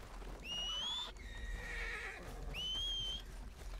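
A horse in the video game Red Dead Redemption 2 gives two clear, high whinnies close by, with faint hoof clops between them.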